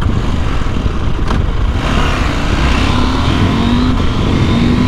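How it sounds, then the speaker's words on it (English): A 2021 KTM 890 Adventure motorcycle engine running loud and close outdoors, a steady rough rumble that rises in pitch as the throttle is blipped, with no speech. "Let's try and start the engine."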